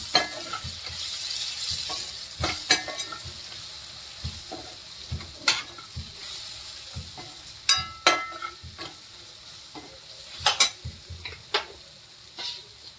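Ground spices such as coriander powder and red chilli powder being stirred into a potato bhaji frying in a pan with green chillies, with steady sizzling and repeated scraping, clattering stirs throughout, no voices.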